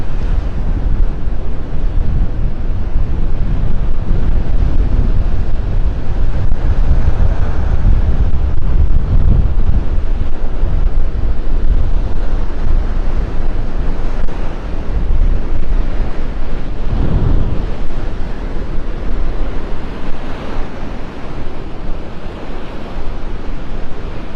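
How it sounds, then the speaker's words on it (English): Ocean waves break over a sandbar at Delnor-Wiggins beach in North Naples on a breezy morning, a loud continuous surf roar mixed with heavy wind buffeting the microphone, with no voices. "You can see those waves breaking over top of the sandbar out there."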